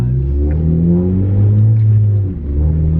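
Car driving just after an oil change, its engine giving a loud, steady rumble with shifting tones from gear and speed changes, and no talk.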